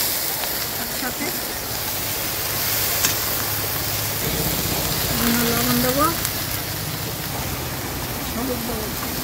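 Onions and okra frying together in the oil left in a pointed-gourd frying pan give a steady sizzling hiss throughout, while someone speaks over it.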